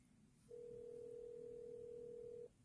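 A single long electronic telephone tone lasts about two seconds on an outgoing call, steady and moderately loud over quiet background hiss.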